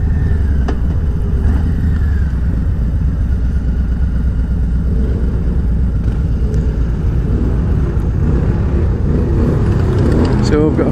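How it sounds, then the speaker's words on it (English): Motorcycles with fishtail exhaust pipes rumble loud and close as they roll in at a bike rally in La Manga, a continuous low engine drone with occasional rising revs; talk is heard over the engines. "So we've got a few more bikes arriving now."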